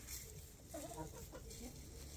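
A large hen clucks softly in a backyard flock, a few faint, low, throaty clucks that sit under steady outdoor noise with no talking.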